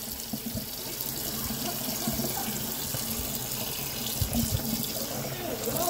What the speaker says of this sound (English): With the crab meat, I'm going to just kind of clean out the clips of it, rinse it with cold water.